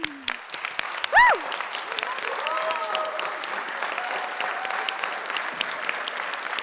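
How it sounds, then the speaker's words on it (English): Audience applause for choir members at the Edsel Ford WinterSing concert: a dense, steady wash of clapping that holds loud throughout, with a sharp whistle and scattered cheers near the start. "I'd like to give them a round of applause"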